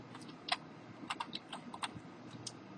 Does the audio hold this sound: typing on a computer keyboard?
yes